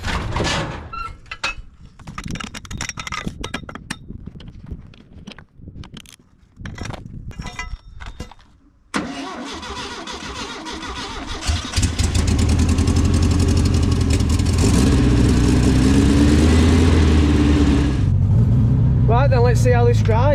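A talking voice comes first over clunks and door sounds. Then an abandoned 1970s VW Beetle, not run in over 20 years, bursts into a loud, steady, high-revving engine note that holds close to the end.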